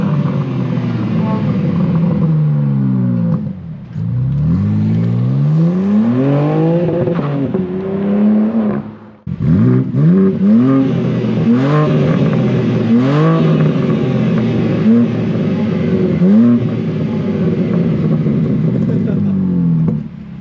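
A 2023 BMW M4 CSL revs hard and close, its engine rising and falling in repeated sweeping pulls with a short pause in the middle, loud and aggressive throughout.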